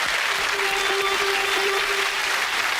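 A studio audience on a television game show applauds in a sustained, dense wash of clapping that stays even and loud throughout.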